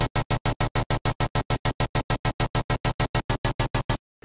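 A rapid, evenly pulsing electronic buzz repeats about seven times per second, harsh and dense, then cuts off abruptly.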